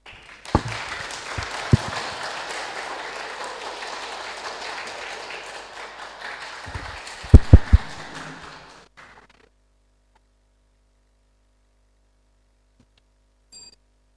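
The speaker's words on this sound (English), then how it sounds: "May we now invite our second to last contestant, Venerable Hunming Chu, to the stage with a warm round of applause." Audience applause at the final round of an English and Khmer public speaking contest as a contestant comes to the stage: steady clapping for about nine seconds with a few sharp louder claps near the end, then it cuts off into silence.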